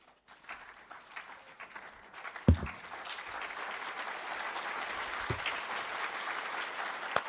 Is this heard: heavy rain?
no